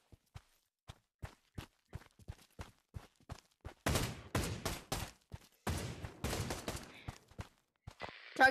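In the VR shooter Pavlov, a steady ticking of soft clicks or steps gives way to a run of loud, booming shotgun blasts with reverberant tails, several in quick succession.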